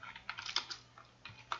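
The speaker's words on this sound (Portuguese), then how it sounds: "segura o Shift no seu teclado" Soft typing on a computer keyboard, a few quiet irregular key clicks over a second and a half, close and alone with no talking.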